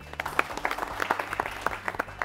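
Audience applause for a quiz team at a national quiz competition, a short burst of scattered, uneven claps from a modest crowd, fairly close and without talk.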